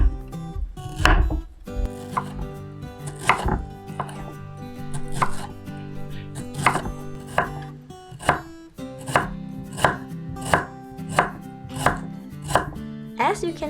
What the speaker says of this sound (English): when you cut the lemongrass, you cut until you don't see the purple line inside